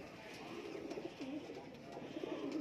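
Teddy pigeons coo softly in a close, low series of rounded calls, with faint background murmur underneath.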